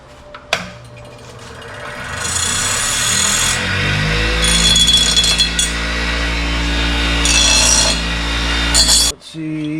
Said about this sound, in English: let's go grind and clean this up